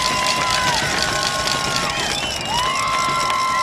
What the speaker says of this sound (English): you can hear the crowd making some noise